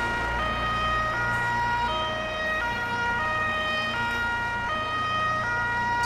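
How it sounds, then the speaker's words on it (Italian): Ambulance siren in the Firefighters 2014 driving game, a steady two-tone wail cycling evenly over a low engine rumble, loud and continuous throughout with no voices. "Sto cominciando a sospettare che non serve assolutamente a nulla avere la sirena"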